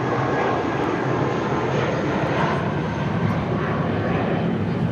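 A Spirit Airlines Airbus A320 takes off from LAX, its engines producing a loud, continuous broadband roar that holds steady throughout, with no voices.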